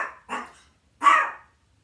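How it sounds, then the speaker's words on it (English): A dog barks three times nearby, two quick barks followed by a pause and a louder third bark. "she's barking at birds"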